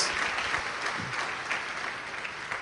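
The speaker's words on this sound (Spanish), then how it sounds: "Dale un fuerte aplauso al Señor por su misericordia." Steady applause from a church congregation, a dense wash of many hands clapping together at moderate volume for the whole stretch, with no voices standing out.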